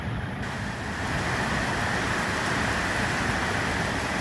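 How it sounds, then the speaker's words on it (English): Blustery storm wind drives rain across the open in Charters Towers, producing a steady loud hiss and rumble of gusts and spray that swells after the first second, with no talking. "the wind's just blowing the rain everywhere"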